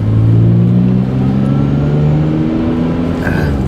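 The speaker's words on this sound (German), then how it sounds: "Reifen sind durchgedreht." A car revving hard and accelerating on a test drive, tires spinning and losing grip, the engine a loud steady roar close by with rising tone throughout, no talk.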